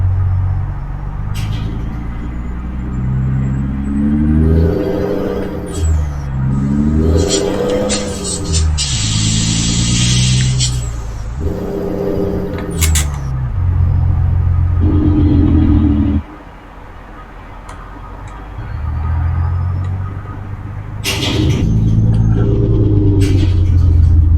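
Heavy truck engine, a Peterbilt 379, rumbles low and steady as it creeps through a tight space, with repeated revving surges, brief hissing bursts and a drop to idle before it rises again.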